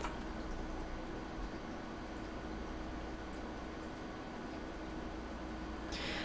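A reference AMD RX 480 graphics card's blower fan runs under a mining load on a desk, giving a steady, loud broadband whoosh with a faint mechanical hum that holds constant throughout, with no talking.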